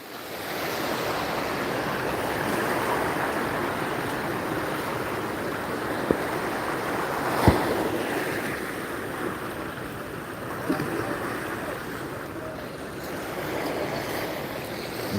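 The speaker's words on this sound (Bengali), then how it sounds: "এই যে দারুণ ঢেউ চলছে দারুণ" Sea waves rolling onto the beach at Digha: a continuous, fairly soft wash of surf with a few brief knocks, heard without talk.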